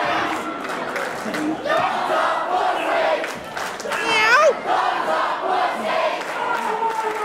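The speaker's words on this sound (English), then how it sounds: "crowd letting Don know what they think of him" A wrestling crowd at an EPW championship steel cage match chants and jeers in loud, continuous waves, with a few sharp shouts and whistles rising above the roar.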